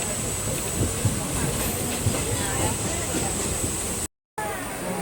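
Train running on rails on a journey toward Trivandrum, a continuous loud rumble with hiss and faint rhythmic clatter, heard from inside a carriage, with a brief dropout near the end.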